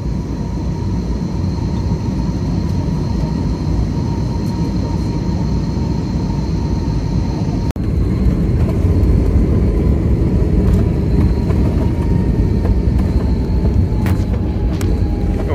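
A Scoot Airbus airliner touching down in Singapore, heard from inside the cabin as a loud, steady roar with a sudden jolt partway through, then continued rumbling as the aircraft rolls out.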